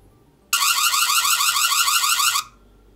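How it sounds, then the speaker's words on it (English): Burglar alarm tone from a Dr.Trainer B1s Pro smart bark collar, a loud warbling electronic siren lasting about two seconds alone, starting and stopping abruptly. "Then we have burglar alarm."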